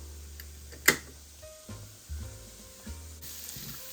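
Bitter melon (ampalaya) sautés in a pan with a steady low sizzle, broken by a sharp clink and several soft stirring scrapes and knocks, with no talk.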